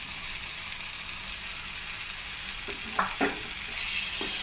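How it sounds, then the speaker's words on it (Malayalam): Chicken pasta with vegetables and capsicum being stirred in a pan over a steady, close sizzle, with a few scraping strokes of the spoon near the end. "വീണ്ടും ഇളക്കി ചേർക്കാം."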